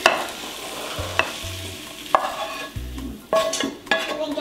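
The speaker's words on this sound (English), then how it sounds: "And then toss everything over bulgur. I'll just mix bulgur once." Sorrel salad tossed and stirred over bulgur in a bowl for an Armenian dish, heard as close, soft scraping and rustling strokes with a few light clinks of utensil on bowl, and no talking.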